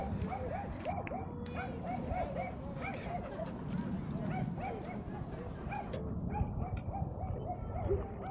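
Several dogs bark and yip at an outdoor dog park, with overlapping barks near and far running steadily throughout, mixed with a busy crowd murmur and occasional people talking.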